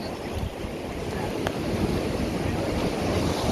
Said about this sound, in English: All right, Ellis, here comes the water.